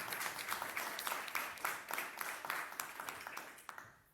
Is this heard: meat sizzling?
no